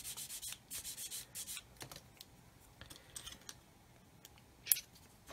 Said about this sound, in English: So I'm just going to polish this top where the sprue nib was.